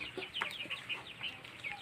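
Hens on a small Filipino backyard poultry farm, laying again after a break, give a run of soft repeated clucks and short calls, moderately close and fairly quiet, with no talk over them.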